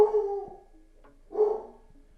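A dog lets out a drawn, howling bark followed by a shorter muffled bark a second later, both moderately quiet and heard alone in an indoor room.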